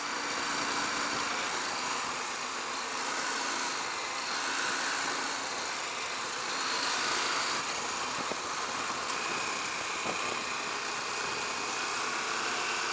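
A KTM 890 Adventure R motorcycle engine running steadily while riding at moderate speed, a continuous droning hum mixed with heavy wind rush, close and unbroken throughout.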